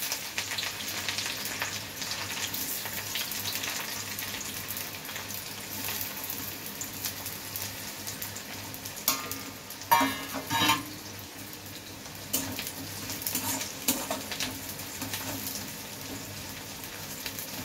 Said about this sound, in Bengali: আগে পেঁয়াজটা একটু ভেজে নেব।